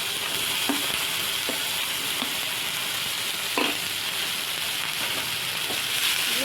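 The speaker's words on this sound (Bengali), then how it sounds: "ভাজা ভাজা হয়ে এসছে সবজিগুলো" Capsicum and tomato frying in a pan, a steady sizzle running throughout with a few soft stirring scrapes and clicks at irregular intervals; no voices.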